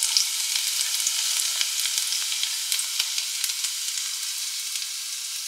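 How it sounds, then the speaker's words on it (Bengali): Garlic tempering sizzles steadily in hot oil, a dense, close hiss with small crackling pops running unbroken throughout, no voices. "তেলে দেখো রসুন ফোড়ন অ্যাড করছি"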